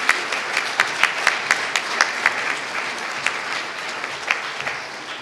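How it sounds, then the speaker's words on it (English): Applause from a summit audience in Southern Africa, with steady dense clapping and scattered sharper claps throughout, loud and continuous with no talking over it. "I ask Khadi and her team to please stand up as you give them a round of applause for facilitating this"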